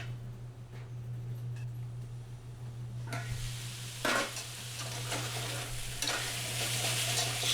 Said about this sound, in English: we're going to let it cook, and as it's cooking, it'll also do the onions for us.